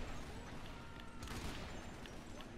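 A sniper rifle in Earth Defense Force 4.1 fires two-round bursts with a quick rechamber, and the shots sound like dense, muffled bursts over a steady, noisy game soundscape, with no clear talking.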